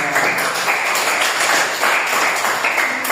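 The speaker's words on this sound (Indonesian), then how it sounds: "Tepuk tangan untuk kelompok 2." Students in a classroom clapping for a group after its presentation, a steady wash of many hands clapping at a fairly loud level throughout with no voices standing out.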